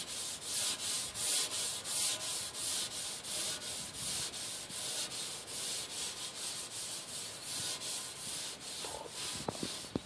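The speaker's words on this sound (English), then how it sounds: "Scrub the tank nice and clean." A tank is scrubbed clean with a steady, rhythmic back-and-forth rubbing, roughly two strokes per second, close and loud, ending with a few small knocks.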